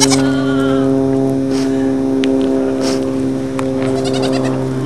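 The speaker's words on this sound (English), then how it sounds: "Nigerian dwarf goats." Nigerian dwarf goats bleat in short wavering calls over a steady low hum of machinery, several brief cries scattered across the clip.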